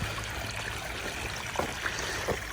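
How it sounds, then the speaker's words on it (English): Water running steadily along a roadside ditch like a small stream, a soft continuous trickling wash with a few faint splashy bubbles, close by and alone. "Look at the water running."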